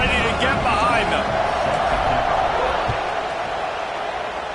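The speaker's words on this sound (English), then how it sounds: "this crowd now ready to get behind them" A football stadium crowd roars ahead of the kickoff in a UT game, a loud, sustained wash of cheering that fades slightly, with a commentator speaking over it.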